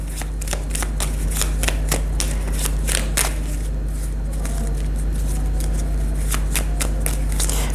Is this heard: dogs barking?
no